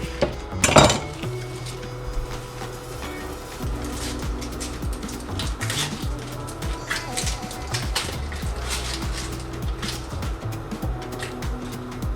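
Knife chopping a red onion on a board in a kitchen, a steady series of quick, light taps and knocks with a louder clatter near the start and faint utensil clinks.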